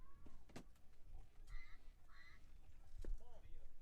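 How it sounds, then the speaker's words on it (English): Ducks quack overhead as they fly toward a pond beside a Little League baseball game, several short nasal calls spread across the moment, moderately distant over a low crowd murmur and faint voices. "It sounds like the Ducks are flying home to the pond over to our right."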